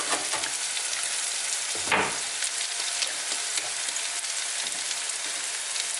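Seasoned oxtail cooks osso bucco style in a pot, giving a constant, close sizzle with one brief scraping stir partway through, and nobody speaks.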